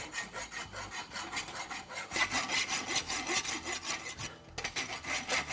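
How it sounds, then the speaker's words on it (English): Half-round file worked over a steel horseshoe's inside branch to clean up the concave of a hind roadster shoe, steady back-and-forth rasping strokes repeating in a close, rhythmic scrape with brief pauses between passes, no talk. "File the inside branch."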